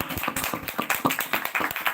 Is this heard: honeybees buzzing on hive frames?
no